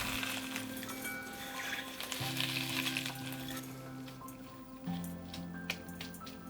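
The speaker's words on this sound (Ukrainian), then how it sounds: "І потрібно цибулю трішки розім'яти для того, щоб вона віддала свій сік." Sliced onion being kneaded and squeezed by hand with coarse sea salt for a barbecue marinade, giving a soft continuous wet crackle and squish, close up with no talking.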